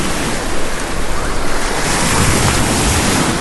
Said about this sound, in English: the waves have definitely picked up over on this beach.